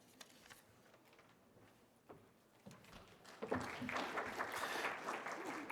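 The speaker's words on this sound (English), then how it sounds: "Thanks for the applause." Scattered claps from a small conference session audience build into a burst of steady applause that carries on to the end, moderately distant.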